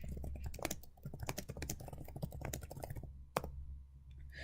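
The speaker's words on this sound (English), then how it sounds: "I had my fingers pressing the keyboard without looking at them" Rapid touch typing on a computer keyboard, a dense, quick run of close key clicks that stops abruptly, then one louder keystroke and a few faint taps after a short pause.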